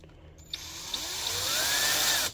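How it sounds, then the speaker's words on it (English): A power drill bores holes into a plaster of Paris mold used for casting lead jigheads, starting with a few clicks and then whining steadily as it spins up, close and fairly loud, with no talk. "get that drill bit in here, and then drill a couple holes"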